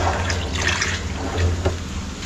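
Water running into storage tanks on a windy farm, filled to water coconut palms: a steady rushing pour with broad hiss and a low rumble, close and continuous.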